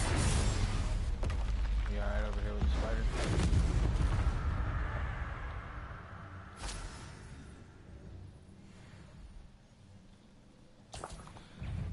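Spell blasts in Hogwarts Legacy, Confringo and Bombarda, go off as several sharp booming impacts in the first half amid combat noise, with a player speaking over them, then quieter gaps broken by a couple of later hits.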